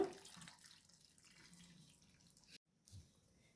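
Water is poured into a pot that already holds salt and mustard oil, a steady splashing pour running for about two and a half seconds, then a brief gap and a short final splash. The sound is close and moderately quiet, with no talk.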